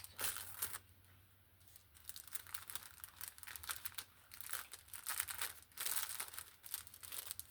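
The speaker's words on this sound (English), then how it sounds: "And then tape it closed." Packing tape pulled and pressed down to seal a box holding finished Christmas ornaments, with bursts of crinkly ripping and rustling, fairly faint and close.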